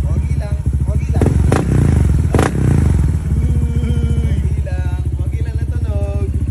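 A motorcycle fitted with an aftermarket exhaust revs close by, its steady idle punctuated by two sharp throttle blips, while people talk over the engine.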